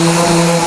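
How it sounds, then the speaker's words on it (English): An electric sander with 120 grit paper running over a reclaimed scaffold board tabletop, a loud steady whirring drone with a constant tonal hum, close and brief. "I'm going to quickly connect up the sander and with a 120 grit, give it a quick once over."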